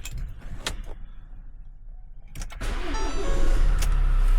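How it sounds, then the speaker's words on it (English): Ford Transit Custom van with a charging fault linked to an overrun alternator pulley: key clicks and a brief cranking whir, then the engine catches and settles into a steady, close idle rumble that builds toward the end. "So we're going to start the vehicle up."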